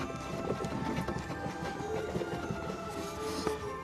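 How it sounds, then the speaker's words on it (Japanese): Worn front stabilizer bar bushing on a 2007 Mazda 3 knocks under a pry bar in a repair shop, giving a quick run of loose, repeated clunks and rattles that continue steadily over a busy background with no voices. "これでスタビライザーのブッシュから音が出てるってことになります。"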